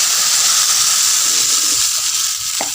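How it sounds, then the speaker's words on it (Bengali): Water goes into a hot cooking pan, and a loud, steady sizzle and hiss of frying and steam fills the whole stretch, close up, with faint clinks near the end. "এবার দিয়ে দিচ্ছি জল, মানে জলটা দিয়ে দিচ্ছি"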